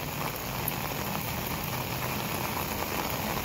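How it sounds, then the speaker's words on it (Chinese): Very heavy rain pours steadily during a typhoon signal 8 day, with gusting wind driving it sideways and drains flooded. A dense, continuous roar of rainfall holds loud and even throughout, with no talking. "今日真系超级大雨啊！"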